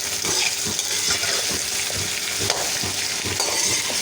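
Okra fries in ghee with a loud, close sizzle, punctuated by rhythmic scrapes and clinks of a spatula stirring against the pan.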